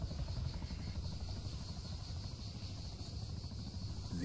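A helicopter in the Arma 3 video game, a steady whirring rotor drone with a high whine, continuous and fairly faint, with no talk.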